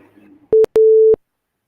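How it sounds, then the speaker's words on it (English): A phone-call tone sounds while an internet call is restarted: one short beep, a brief gap, then a longer steady beep, loud and alone, with faint murmuring before it. "So we restart our call, Annie."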